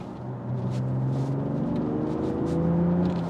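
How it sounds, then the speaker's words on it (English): A smooth BMW X4 M40d straight-six engine in sport mode hums steadily under load, its rising harmonic tone building slightly as the car pulls, with no voices present. "lovely straight six tone coming through there"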